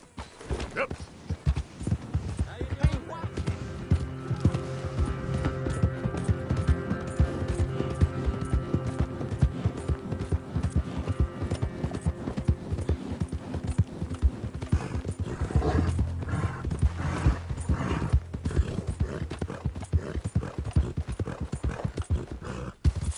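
Horse hooves clip-clopping in a steady, close rhythm, with a continuous low hum and occasional voices in the background.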